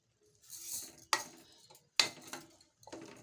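Raw rice, about a quarter kilo, pours with a soft rushing hiss into a pot of spiced soybean pulao, followed by three sharp metallic clanks of a utensil against the pot, close and fairly quiet.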